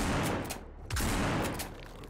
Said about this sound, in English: I'm gonna shoot them.